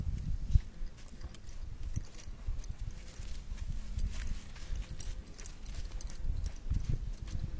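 A horse shifts its hooves with irregular clip-clop steps while a rider puts a foot in the saddle and bounces during early training, the hoofbeats close and moderately loud over low rustling, with no talking.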